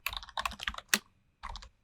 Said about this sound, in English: Yes, I got the password right.